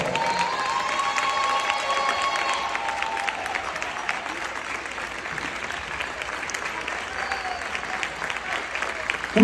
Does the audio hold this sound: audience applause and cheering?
yes